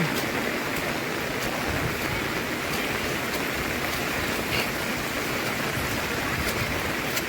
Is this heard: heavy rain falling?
yes